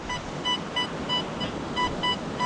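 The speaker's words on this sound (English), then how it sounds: "You hear the proximity coming up and the beep on the other channel." An XP Deus II metal detector with an HF2 coil sweeps a beach, giving repeated short electronic beeps at a steady rhythm, about five close tones over steady surf and wind noise.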